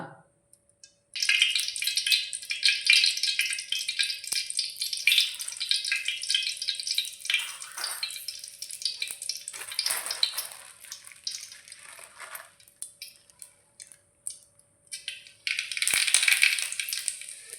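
Mustard seeds and curry leaves dropped into hot oil in a pan for a bangude (mackerel) masala: a sudden bright crackle that spits and hisses for several seconds, fades, then flares up again near the end, close and loud.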